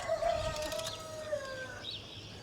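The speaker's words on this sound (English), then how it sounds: "My last group down here is my Indio Gigantes, which are the world's tallest chicken." Indio Gigante chickens, the world's tallest breed, in a breeder pen as a rooster lets out a drawn-out crow, with faint clucks and outdoor ambience around it.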